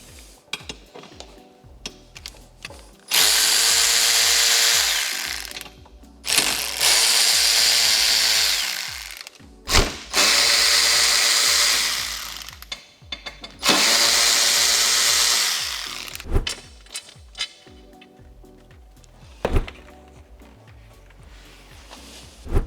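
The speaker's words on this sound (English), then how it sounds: "take out these two T30 screws on both sides of this crossbar right here" A powered driver backs out T30 screws from the crossbar of a Porsche 718 Cayman or Boxster in four loud whirring bursts of a few seconds each, separated by quieter pauses with clicks and clunks of the tool and metal parts.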